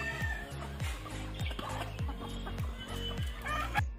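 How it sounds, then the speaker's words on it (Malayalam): Native-breed hens and roosters cluck in a steady, rhythmic run of close, repeated calls, each one dropping in pitch, with a little background noise. "ഇതിൻ്റെ എല്ലാം പൂവന്മാരും ഉണ്ട് നമ്മുടെ കയ്യിൽ"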